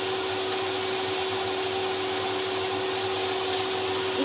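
A vacuum cleaner runs upstairs as a steady, loud, unbroken hiss and whine with a constant tonal hum, and its drone never changes.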